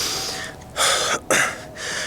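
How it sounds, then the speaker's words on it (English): Heavy breathing from a soccer player out of breath after running, a few loud gasping inhales and exhales in close succession, close to the mic with no talking. "See, I'm out of breath."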